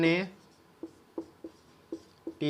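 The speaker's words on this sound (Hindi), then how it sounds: "तो हम यहाँ पे लिख लेते हैं कि माना टीम" Pen strokes scratching on paper during a class 8 maths lesson, several short separate scrapes between bursts of a teacher's voice, close and clear.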